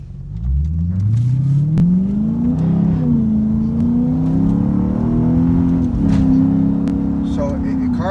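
A high-mileage Lexus IS F makes a quick pull, its engine rising in a steady climbing roar that holds loud and close through several seconds of hard acceleration.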